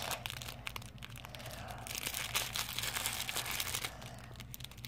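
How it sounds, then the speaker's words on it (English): Scissors cut open crinkly plastic packaging on a new swimsuit, with close, continuous crackling and rustling and occasional snips, loud and near. "got some scissors. Make sure we do not cut the product."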